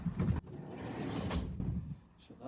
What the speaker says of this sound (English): Shut that door.